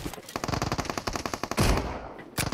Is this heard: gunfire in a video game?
yes